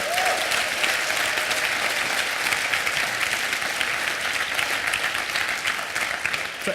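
Conference audience at a Django developer talk breaks into sustained, even applause, a dense roomful of clapping holding steady for several seconds before easing slightly.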